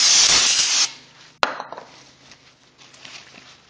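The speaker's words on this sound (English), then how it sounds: "Give this a spray." Cleaner sprayed onto a brake rotor in a loud, close hiss lasting under a second, followed by a sharp knock and light handling clatter.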